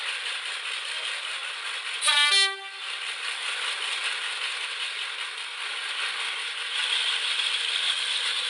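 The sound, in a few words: train passing by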